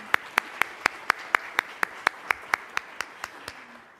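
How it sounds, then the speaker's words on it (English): Clapping for the sponsors of a live-streamed political event comes as evenly spaced, crisp claps, about four per second, steady and fairly close, trailing off softly after about three and a half seconds. "So let's give them a round of applause."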